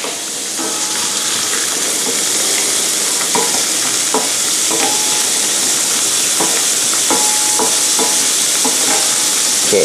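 Shrimp stir-frying in a pan over high heat for a shrimp basil dish, a loud steady sizzle with repeated scraping clicks of a utensil stirring throughout, no voices.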